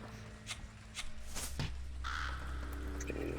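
A bird caws in the hospital-set video game 9 Clues 2: The Ward, one harsh call standing out among scattered clicks and a low ambient hum.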